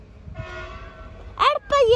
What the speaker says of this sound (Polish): A za chwilę wjedzie pociąg osobowy przyspieszony do Warszawy lotnisku Chopina